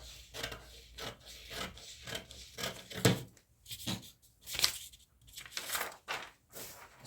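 Scissors cut fabric for a shirt yoke in a series of close, irregular snipping and rustling strokes, some sharper than others, with no voice present.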